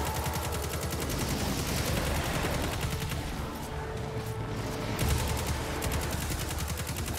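Sustained automatic gunfire in Destiny 2, with acolytes firing stasis weapons during the Aphelion's Rest master Lost Sector: dense, rapid rattling bursts that run without pause for the whole stretch, loud and close, layered with game effects.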